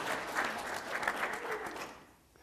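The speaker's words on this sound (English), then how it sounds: "Let's give Sheila a round of applause." A round of applause for Sheila at a low vision summit on Cape Cod, a small audience clapping together at moderate volume for about two seconds before fading out.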